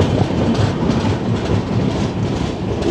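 A train rolls near Aluabari Road station, its steady rumble and rattling wheels filling the foreground, loud and continuous without pause.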